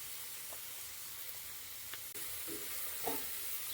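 Onion fries in a pan with a soft, steady sizzle, broken by a few faint scraping stirs of a spoon in a home kitchen.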